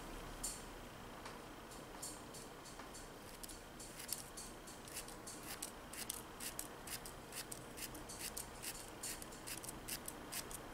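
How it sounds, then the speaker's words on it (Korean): Scissors snip through a sheet of white and satin gold nail art magic film, a rapid series of short, crisp cuts close by at a steady rhythm, with no voices. "큐어가 되는 동안 전 얘를 가위질을 하겠습니다."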